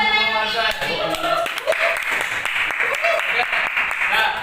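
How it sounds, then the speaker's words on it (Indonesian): Classmates in an Arabic lesson at an Islamic senior high school applaud a student, a burst of close, loud clapping lasting several seconds. "Beri tepuk tangan dulu untuk Muhammad."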